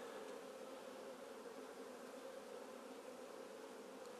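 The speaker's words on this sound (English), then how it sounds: "there's a bee with some pollen on her leg" Honeybees buzz continuously at an open single-deep beehive on a warming day, a steady, dense hum from many insects close by, with no talking.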